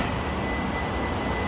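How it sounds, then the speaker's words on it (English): A train passes through Haywards Heath station, a steady loud broadband rumble and rush of rail noise throughout, with no talk. "Ah, train at Withersfield."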